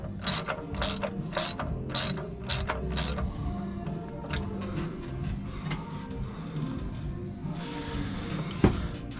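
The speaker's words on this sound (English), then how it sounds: "So I switched to a 1/2-inch socket to be able to get up in here." A ratchet fitted with a 1/2-inch socket clicks in a quick burst of about six sharp strokes on a Brunswick bowling pinsetter turret clutch, followed by softer mechanical handling and a single clank.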